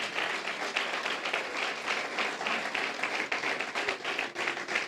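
Claps from a church congregation in a dense, sustained round, with some individual sharp claps popping out of the mass and slight swells and dips in loudness.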